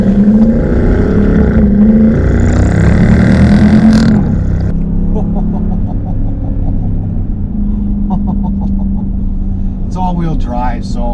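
A 475HP all-wheel-drive car in track mode with traction control off accelerates, its engine climbing in pitch for about four seconds before easing back to a steady, lower drone.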